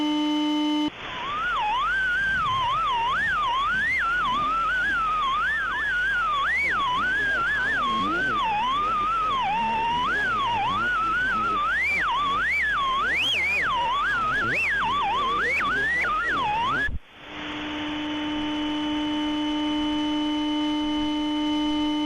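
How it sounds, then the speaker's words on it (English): An eerie electronic tone on a Minecraft website warbles and bends in pitch continuously, loud and alone, preceded by brief beeps, cutting out abruptly near the end before a steady tone resumes. "The audio begins with a few beeps followed by a pitch that warbles and changes as time goes on."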